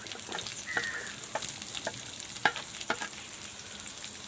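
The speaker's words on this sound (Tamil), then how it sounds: "இந்த வெங்காயத்தையும் எண்ணெயில் சேர்த்துக்கலாம்." Onions sizzling as they fry in oil for a chicken fry dish, a quiet steady hiss with scattered light crackles and a few soft stirring clicks.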